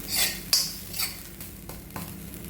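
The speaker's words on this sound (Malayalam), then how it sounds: "ആ പാനിൽ തേങ്ങ ഇട്ടൊന്ന് ഇളക്കി കൊടുക്കുവാണേ" Grated coconut stirred in a pan, a few sharp scrapes and clinks of a utensil against metal, close and alone, with a quiet rustling between strokes.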